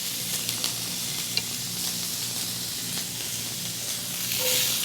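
Asparagus hits a hot pan beside resting chicken for a primavera and sizzles loudly and steadily up close, a dense frying hiss with faint stirring clicks that swells near the end.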